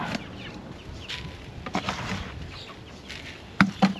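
Backyard chickens cluck and scratch about while being fed, giving scattered short clucks and rustles at moderate distance, with a couple of louder, sharper calls near the end.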